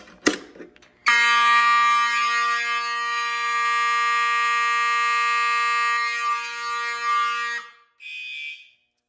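A loud, steady electronic fire alarm tone from a basement fire alarm system under test blares continuously for several seconds, then cuts off, followed by a brief shorter burst.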